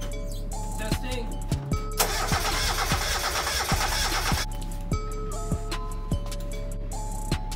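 During a compression test on cylinder 2, a car engine that once overheated cranks without starting in one steady, close burst of about two and a half seconds, with clicks and taps before and after.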